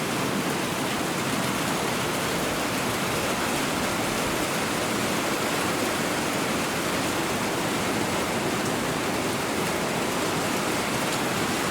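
Flood water rushes into a violin shop in a dense, unbroken roar, like a heavy torrent, steady and loud with no voices throughout.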